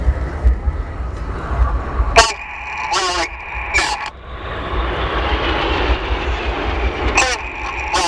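Red Arrows jet aircraft roaring past at an air display, a loud sustained engine rush that swells and lingers, with crowd voices and announcer speech heard over it.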